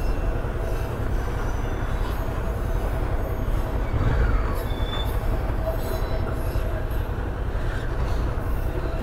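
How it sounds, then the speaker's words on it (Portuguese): A freight train passes close by in Candeias, Minas Gerais, its railcars rumbling continuously while the wheels squeal in thin, high bursts on the rails for the whole stretch. "Tá com composição ferroviária passando aí."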